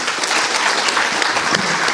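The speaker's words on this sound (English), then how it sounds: "Everybody give a round of applause for our panel." Audience applause for a panel at a small business forum on marketing and social media, steady dense clapping filling the whole stretch at close range with no talk over it.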